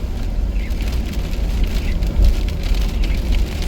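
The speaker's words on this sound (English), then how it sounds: "it hasn't stopped raining" Heavy rain drums steadily on a car driving through the stormy Adelaide Hills under a cold front, a dense continuous patter over a low road and engine rumble, with no voices.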